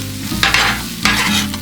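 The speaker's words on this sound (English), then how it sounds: "Hear that sizzle" Bell pepper, fresh garlic and onion frying in oil on a griddle top, giving a steady close sizzle with two brief bursts of stirring and scraping, no voices.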